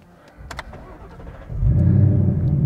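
A 2021 Ford Mustang Mach 1 with its 480-horsepower V8 cranks and fires up, settling into a loud, deep rumbling idle close by with no talking.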